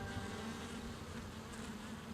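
A mass of European honeybees hums at their hive, a steady, even drone with no breaks, low in level.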